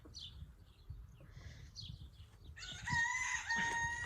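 A rooster crows a drawn-out cock-a-doodle-doo near the end, preceded by softer clucking and chicken noises over a low outdoor rumble.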